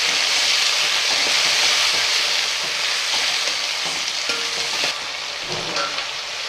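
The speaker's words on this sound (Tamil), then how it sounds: "அப்படியே சேர்த்துட்டு நல்லா கரையிற வரைக்கும் வதக்கி விடுங்க." Four chopped tomatoes sautéed in a pan for a paruppu urundai kuzhambu, a lentil-ball curry, give a loud, steady, close sizzle. Soft scrapes of stirring come through now and then.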